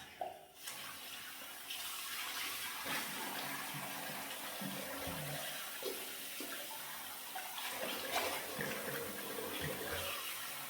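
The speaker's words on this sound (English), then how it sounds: "let me just wash my face" Running tap water splashes steadily as a face is washed at a sink, a close continuous rush with irregular splashes and no speech.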